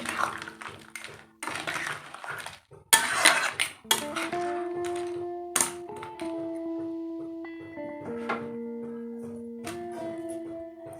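A spoon scrapes and clatters against a pan of crab curry with raw papaya as a pinch of kasuri methi is mixed in. Several close, uneven bursts of stirring come first, then steady tones play underneath.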